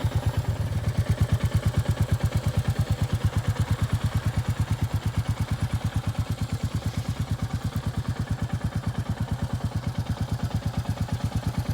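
Royal Enfield Meteor 350cc single-cylinder motorcycle engine on a UK test ride, a loud, steady rapid thumping pulse that runs evenly throughout with no talking.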